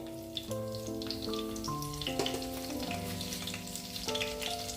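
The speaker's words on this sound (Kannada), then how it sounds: "ಎಣ್ಣೆ ಒಳ್ಳೆ ಬಿಸಿ ಆದ್ಮೇಲೆ ನೋಡಿ 4 ಎಸಳು ಬೆಳ್ಳುಳ್ಳಿಯನ್ನು ಜಜ್ಜಿ ಹಾಕ್ತಾ ಇದ್ದೇನೆ" Crushed garlic cloves and neem leaves frying in hot coconut oil, a steady close sizzle with crackling bursts under faint background music-like tones.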